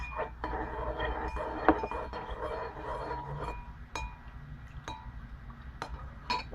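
Liquid soap with lavender and frankincense essential oils is stirred in a container, soft rubbing with scattered light clinks and taps, fairly faint, with a quiet background hum.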